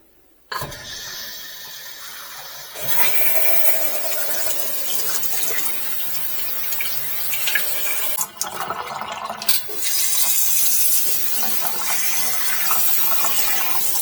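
Water runs steadily from a SEJOV commercial kitchen pull-down faucet with a sprayer into a sink. It starts abruptly, rushes loud and continuous, and briefly changes to a brighter spray partway through.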